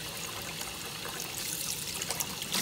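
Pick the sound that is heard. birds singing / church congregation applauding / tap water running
tap water running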